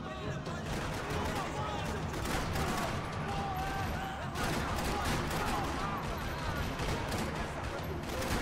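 Sustained gunfire shootout in the video game Max Payne 3, set in São Paulo: dense, continuous bursts of automatic fire and shots, loud and unbroken throughout.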